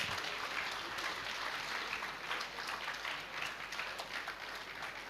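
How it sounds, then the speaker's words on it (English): An audience at a microfinance conference gives a doctor another round of applause, a steady, fairly distant wash of clapping from a hall, quiet and continuous. "give another round of applause"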